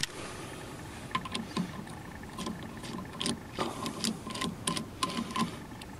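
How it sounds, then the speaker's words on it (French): A ratchet fitted with a 14 mm socket loosens a nut on a Chinese GY6 139QMB scooter, producing a series of light, fairly close clicks that are uneven and sit over a low background hum. "d'un cliquet équipé d'une douille de 14. Vous présentez donc l'outil et vous desserrez l'écrou."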